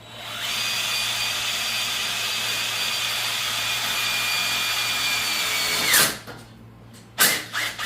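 A power drill drives screws into wood in one long steady whine, its pitch sinking slightly as the screw seats, then stopping with a clunk; a short second burst follows near the end.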